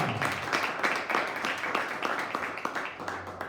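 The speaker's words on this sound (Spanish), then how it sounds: "Un aplauso al Señor por ello" Congregation applause during a church service, a lighter patter of individual claps with distinct sharp hits, fairly close and moderately quiet.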